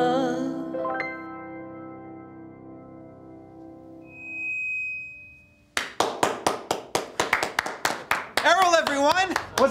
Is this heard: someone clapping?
yes